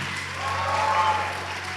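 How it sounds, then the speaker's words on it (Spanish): A church congregation claps in steady, sustained applause through a Spanish-language worship service, the dense clapping swelling slightly in the middle and fading a little toward the end. "¿Cuántos pueden aplaudir al Señor por eso?"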